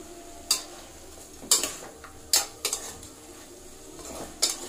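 Chicken cooking in oil with curry leaves, stirred by a spoon scraping the pan in sharp separate strokes roughly every second over a low background sizzle, close by with no talk.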